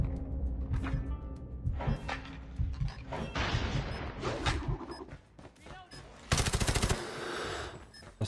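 Rapid automatic gunfire in Call of Duty Mobile, with a PPSh submachine gun, comes in bursts of quick shots and one dense loud stretch near the end, alongside other game effects and someone talking over it.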